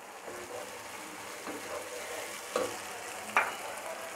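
Ginger, garlic and spices frying in a pan while cooking beef bhuna: a steady, close sizzle with a couple of sharp spoon-stirring clinks near the end, and no talking.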